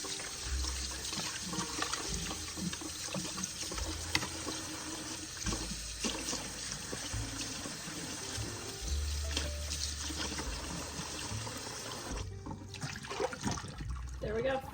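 Water runs steadily from a kitchen sink tap while a pan scraper, brush and other items are rinsed under it, a continuous close splashing gush with occasional clatter, broken briefly near the end.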